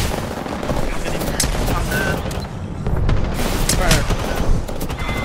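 Rapid bursts of gunfire in the video game Apex Legends during a competitive esports LAN match, dense automatic shots and impacts overlapping with players' shouted callouts.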